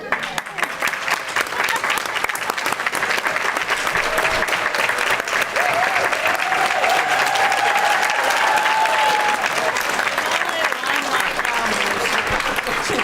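Audience clapping and cheering at a school board meeting fills the room steadily from start to finish, dense and loud without a break.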